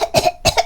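Two sharp coughs in quick succession from a single person, close and fairly loud, each a harsh broadband burst followed by a brief pause, in a Korean lecture on age-related changes in elderly care.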